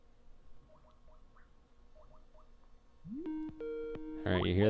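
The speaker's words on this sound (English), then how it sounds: "that's me Skyping myself" A Skype call starts ringing on a computer, with a rising tone and a series of electronic ringing notes that get louder toward the end above faint background chirps.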